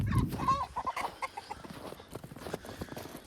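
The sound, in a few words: Rhode Island Red rooster clucking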